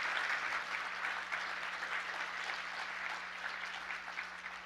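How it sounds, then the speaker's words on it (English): Audience applause for panelists at a Hispanic consumer panel event. Dense, even clapping from a crowd sustains throughout, fairly faint and distant, with a low steady hum beneath it. "Let's give them a big round of applause."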